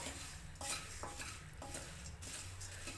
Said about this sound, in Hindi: इसे धीरे धीरे फिर से चलाते हुए भून लेंगे